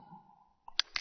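Two quick, close computer mouse clicks, sharp and light, following a brief faint hum while navigating an Avery label design wizard.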